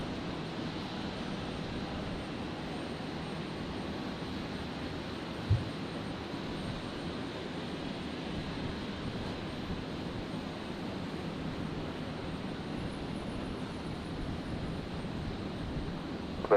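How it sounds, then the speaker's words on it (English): A Royal Flying Doctor Service Beechcraft King Air 360 inbound from Toowoomba to Brisbane Airport gives off a steady, distant roar that holds even and continuous throughout, with no voices. "Royal Flying Doctor Service on screen there, coming in from Toowoomba. The Beach King Air 360."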